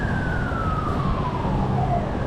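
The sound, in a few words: ambulance siren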